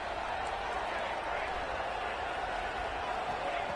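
Loud, steady roar of a packed college football stadium crowd during Iowa versus Oregon, a continuous wash of cheering noise filling the whole span without letting up.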